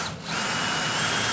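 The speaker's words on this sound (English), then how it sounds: "This pilot drill is inherently dull and keep meaning to sharpen it" A dull pilot drill bores steadily into a Harley-Davidson motorcycle frame, producing a continuous close grinding whine that briefly dips before settling, with no voices.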